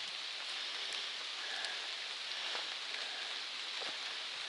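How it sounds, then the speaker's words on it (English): Light drizzle falls on the Appalachian Trail, a soft, even hiss of rain with scattered sharper drops striking nearby surfaces, steady throughout and with no voices. "It's starting to still sprinkle, drizzly."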